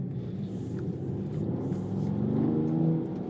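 A 2020 Mercedes-AMG GT53 4-Door Coupe engine rumbles and revs, a deep throaty roar that swells toward the end, steady and fairly close with no talking.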